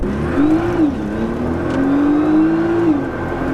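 Nissan GT-R accelerating hard on the road, engine note climbing steadily through the gears with a short shift dip, a loud, sustained rising drone heard from inside the car.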